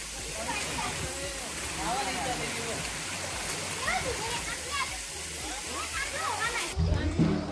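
Constant rushing of a waterfall fills the scene, loud and broad, while people talk over it nearby.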